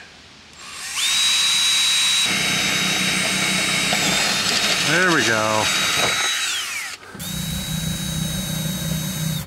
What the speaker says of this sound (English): we did drill through the wall to run the power cable